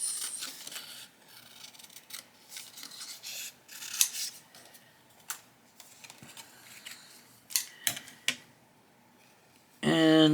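Scissors cut a scrap of paper-like material by hand, producing close, intermittent snips and rustles with brief pauses between them and a louder scrape near the end.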